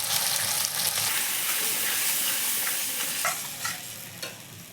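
Ground spices and turmeric for a crab curry fry with a steady, loud sizzle in a pan while a utensil stirs and scrapes, with a few sharper scrapes toward the end.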